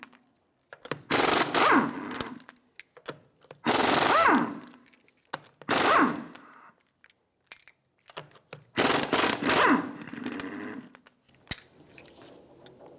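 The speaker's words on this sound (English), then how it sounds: "Using a 21mm socket, remove the lug nuts." An impact wrench with a 21mm socket spins the lug nuts off an Infiniti G35 rear wheel in loud, close buzzing bursts of one to two seconds each, separated by short quiet gaps.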